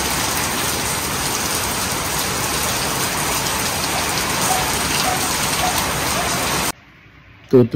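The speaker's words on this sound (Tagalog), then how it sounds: "Pero yung ulan, malakas." Heavy rain during Typhoon Uwan: a dense, loud hiss of rain pours down steadily, then cuts off abruptly near the end, where a brief voice is heard.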